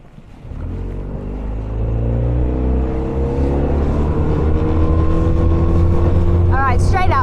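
A Highfield 380 Classic GT boat powers up to full throttle, its outboard engine rising into a loud, steady drone that holds near and constant, with a brief voice breaking in near the end.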